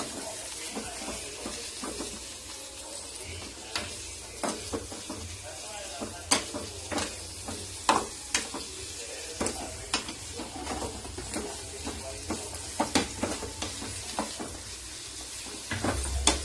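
Ingredients sizzle in a hot pan while being mixed, with repeated scraping and clanking strokes of a spatula over a steady frying hiss, close and moderately loud.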